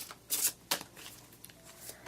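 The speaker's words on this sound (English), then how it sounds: "I'm going to focus on shuffling." Tarot cards being shuffled by hand, a couple of crisp riffling bursts near the start followed by softer, lighter card rustles, close and clear with no talking.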